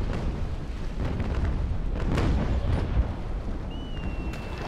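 Naval ship cannons fire in a sailing-warship battle in the game Naval Action, with the HMS Surprise under attack. A run of deep booms and bursts rolls over a steady rumble, loud and continuous, with no talking.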